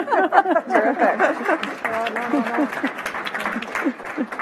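An audience at a Canadian Club sustainability panel applauds the two women on stage, with scattered clapping running underneath a person's nearby voice that talks over it the whole time.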